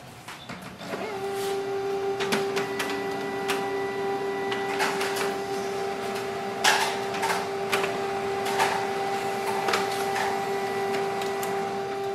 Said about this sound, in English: Select your color laser printer and click on the print.